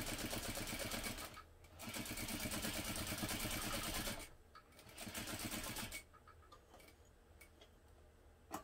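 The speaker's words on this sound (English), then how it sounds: "Just sewing directly along the lines." A sewing machine stitches along marked lines in close, fast bursts of rapid mechanical ticking, running in three stretches separated by brief pauses, the last run softer and slower.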